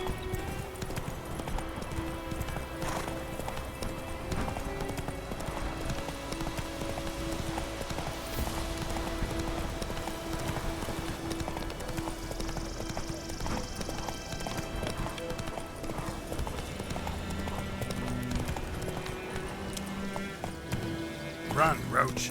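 Geralt's horse Roach from The Witcher 3 gallops in a continuous clip-clop rhythm under game music and ambience, with a brief neigh and speech mixed in.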